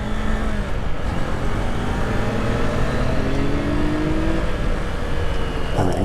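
A Kawasaki Z400 motorcycle pulls hard through second gear on a mountain road, its engine note rising steadily in pitch, loud and close throughout with constant wind rush.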